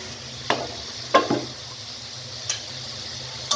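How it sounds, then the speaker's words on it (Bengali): Eggplant and egg curry stirred in a pan after the lid comes off, with a few separate scraping strokes over a low steady sizzle. "এখন একটু ডাকনা ডাক খুলে এটা নেড়ে দিব"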